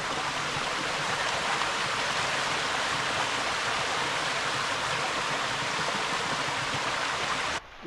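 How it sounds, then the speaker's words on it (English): A mountain waterfall and stream rush steadily nearby, a loud, unbroken roar of falling water that holds constant before cutting off abruptly near the end. "So here we are at the top of that waterfall. Lovely that stream."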